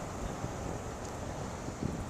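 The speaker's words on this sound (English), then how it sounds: "The wind is blowing like crazy" Wind during a January snowstorm in New York City buffets the microphone with a constant low, roaring rumble throughout the short stretch.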